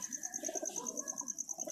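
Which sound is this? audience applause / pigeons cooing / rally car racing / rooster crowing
pigeons cooing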